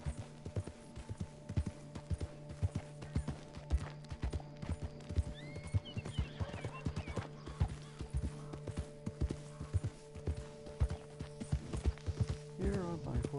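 Horse hooves clip-clop at a steady walking rhythm in a PS4 video game, with faint creaks and a brief whinny partway through, fairly quiet overall.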